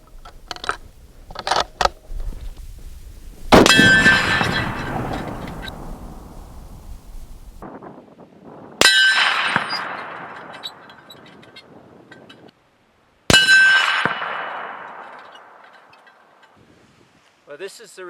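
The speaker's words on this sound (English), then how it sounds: "We're now going to shoot this at 500 yards, see if we can ring the gong" Three sharp, loud rifle reports from a Browning X-Bolt Long Range Hunter in 7mm magnum firing 168 grain Berger bullets at a steel gong 500 yards away, each blast trailing off in a long rolling echo, with wind noise between shots.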